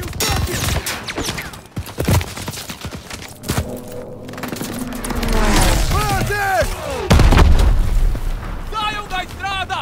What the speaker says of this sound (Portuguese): Aquilo é disparo de arma antiaérea.